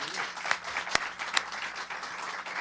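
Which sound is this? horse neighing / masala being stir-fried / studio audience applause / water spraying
studio audience applause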